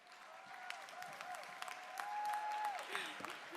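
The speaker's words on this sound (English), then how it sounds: "please stand and give these awesome scholars a round of applause" High school scholars are applauded by a standing audience. The clapping is faint and distant, and quiet gliding tones drift over it.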